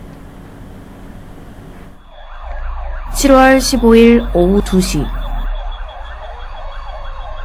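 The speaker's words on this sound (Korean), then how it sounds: "소방차의 경보가 들리면" A fire engine siren sounds during a nationwide drive to clear the road for fire trucks, rising loud with wailing, warbling tones for a couple of seconds before fading, with a voice speaking over the start.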